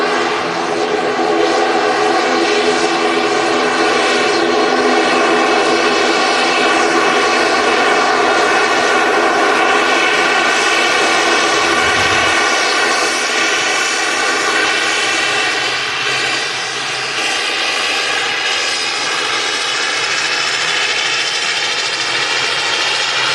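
A loud, steady roar of aircraft engines at Manchester Airport drones continuously and evenly for the whole stretch, close and powerful, with no talking over it.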